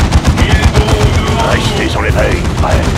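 Distant enemy ranged gunfire in the strategy game Warhammer 40,000: Dawn of War II – Chaos Rising, a steady dense patter of shots and battle noise running throughout alongside a unit voice.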